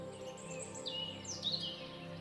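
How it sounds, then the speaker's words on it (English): A small bird gives a few thin, high sweeping calls over a soft, steady background hum, fairly quiet and brief. "The little bird then lifts her wings, rises, and then flies away."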